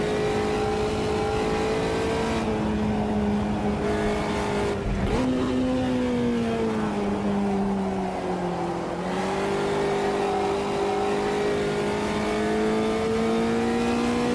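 Fusca race car engines in the racing game Automobilista 2, a loud, continuous droning engine note rising and falling with shifts and throttle changes, several cars buzzing together without pause.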